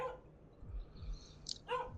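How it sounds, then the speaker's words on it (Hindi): Dogs barking somewhere in a village at night, faint and distant, with a few scattered yaps and a brief louder burst near the end. "इतने कुत्ते भौंकने लगे और इतने कुत्ते इसके पीछे लगने लगे"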